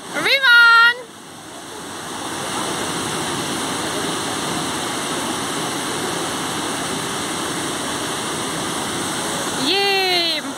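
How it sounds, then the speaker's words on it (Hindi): A waterfall on the Neckar River in Heidelberg roars as a steady broadband rush, with brief speech at the start and end. "पानी नीचे गिर रहा है ऊपर से."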